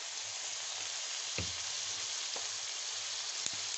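Chicken shawarma masala sizzles in a pan just after soy sauce goes in, a continuous close hiss of frying broken by a couple of light utensil knocks against the pan.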